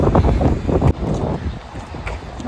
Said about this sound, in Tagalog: baka hindi nyo ako marinig kasi sobrang hangin